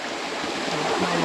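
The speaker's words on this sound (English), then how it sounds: "The water rushing underneath this little bridge." Water rushes steadily under a small footbridge in a park in Australia, a continuous close broadband hiss and gurgle that holds level throughout with no voices over it.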